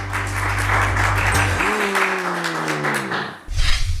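A game-show studio audience applauds in a dense, steady burst of clapping, loud and close, while a sustained electronic tone sweeps through the middle and a fresh patter of claps picks up at the end.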